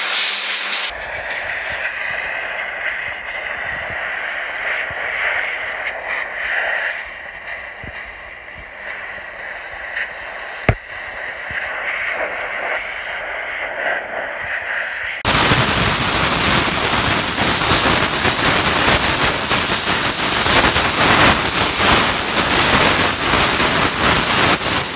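A steam cleaner blasts pressurized steam onto a shopping cart, a steady loud hiss that starts in the last ten seconds after quieter running noise with a sharp click partway through.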